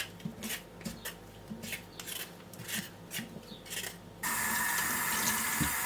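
Peeled beetroot is rubbed and rinsed by hand with soft, close wet sloshes, then a kitchen tap opens and runs in a loud, steady gush for the last second and a half.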